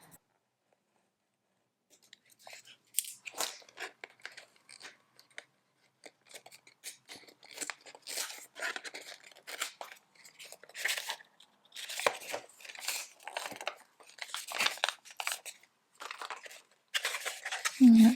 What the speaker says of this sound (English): I'll just cut this carefully so I can keep it as ephemera